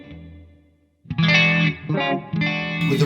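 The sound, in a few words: guitar through clean Soldano amp model with rotary effect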